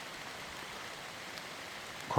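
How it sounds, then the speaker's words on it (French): Heavy rain falls outdoors as a steady, even hiss, ending with a short knock. "Par contre, il pleut de ouf là."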